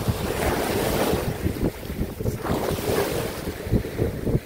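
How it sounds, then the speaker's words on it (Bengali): Strong sea waves break on Al Jaseeya beach in Qatar, surging and rushing close by with heavy gusts of wind buffeting the microphone. No one speaks over them. "পানি প্রচন্ড ঢেউর কারণে"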